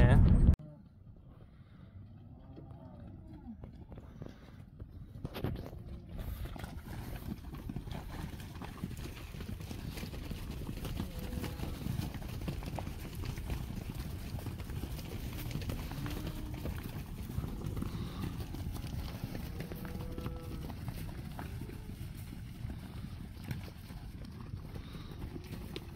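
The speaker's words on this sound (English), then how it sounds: "that was a little clip from the cows first grazing, running about like mad in here." Cows let out onto their first spring grazing field, running about wildly, with a steady stream of hoof thuds and movement for a long stretch. The sound is fairly quiet and continuous, and a person talks over parts of it.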